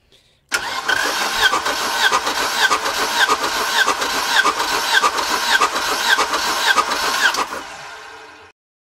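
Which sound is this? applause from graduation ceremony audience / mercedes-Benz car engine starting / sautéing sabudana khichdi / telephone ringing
mercedes-Benz car engine starting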